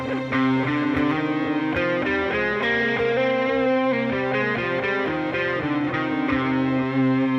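An electric guitar with distortion and effects plays a minor scale as a continuous stream of distinct single notes, steady and loud, with no voices over it.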